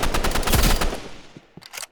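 A gun in the Roblox shooter Rivals fires a full magazine: a rapid, loud automatic burst of closely spaced shots that thins out and fades, followed by a few separate final shots, close with no talking.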